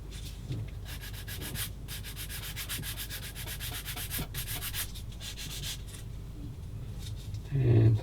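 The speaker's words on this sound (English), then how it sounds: "Do a bit of sanding again." Sanding on a plastic part from a Tamiya 1/35 Matilda Mk III/IV tank model kit, a close, steady rasping rub with short breaks, ending in a brief louder thump.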